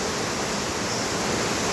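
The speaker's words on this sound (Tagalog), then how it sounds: "Ay nako, malakas na ang ulan." Heavy rain roars in a dense, unbroken hiss, loud and close, with no voices or other sounds breaking through.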